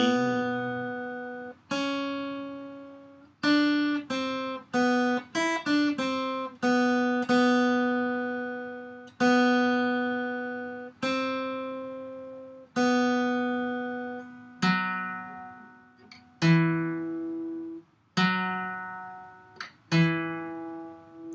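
A clean guitar picks out a slow melody from Carol of the Bells, single notes ringing and decaying one after another, some quick runs, played alone.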